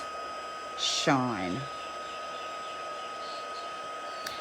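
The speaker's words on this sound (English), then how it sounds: "I love this Stampin' Up heat tool because it's nice and it's not too noisy." A Stampin' Up heat tool melts embossing powder, giving a steady, fairly quiet blower whir with faint hiss that runs throughout, while a person briefly says a word near the start.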